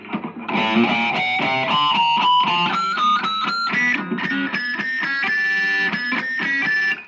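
A lightly overdriven electric guitar plays a quick run of picked notes, bright and sustained with a gritty edge, loud and alone.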